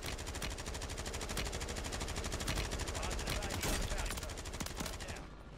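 Bruen light machine gun in a Call of Duty match on Rebirth Island, firing a long, rapid sustained burst of loud gunshots that cuts off abruptly near the end.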